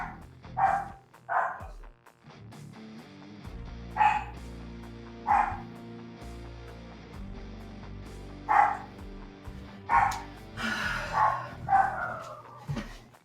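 A small dog named Buster barks repeatedly indoors, sharp close yips and woofs coming in irregular bursts over a low steady hum, with a few quieter whimpering notes between.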